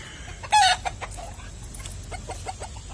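Chickens being fed cluck nearby, with one loud squawk early, then softer scattered clucks and calls over a quiet farmyard background.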